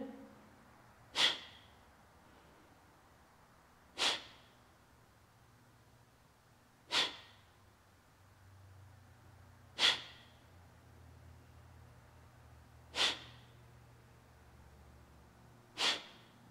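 Kapalabhati yoga breathing: six sharp, forceful nasal exhalations spaced evenly about three seconds apart, close and fairly quiet, with soft background hum between puffs.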